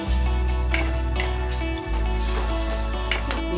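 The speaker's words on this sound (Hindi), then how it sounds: "बाकियों को भी हम ऐसे ही फ्राई करेंगे" Dahi vadas deep fry in oil with a continuous bubbling sizzle close by, over a strong low hum and occasional stirring clicks.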